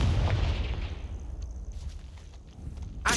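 A Confringo spell explosion in the video game Hogwarts Legacy opens with a heavy, booming blast that decays into rumbling debris, followed by a sharp burst near the end.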